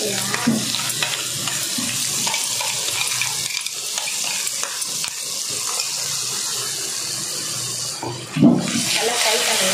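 Spice paste for raw mango rice fries in oil with a steady, dense sizzle, joined near the end by a brief stirring clatter.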